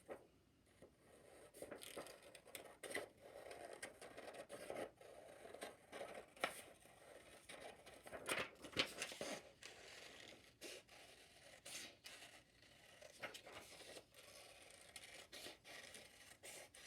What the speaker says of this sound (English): carefully trace around the ice cream lid, and then cut it out